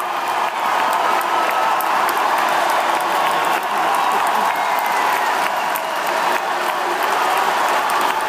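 Crowd cheering at a sports event: a dense, steady wash of applause and shouting from many people, loud and continuous throughout with no break.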